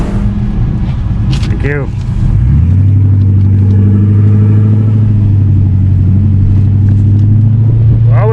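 A turbocharged Lincoln Town Car launches hard on a quarter-mile drag strip, its engine rising into a loud sustained roar after a brief rev, with a voice speaking briefly over the start.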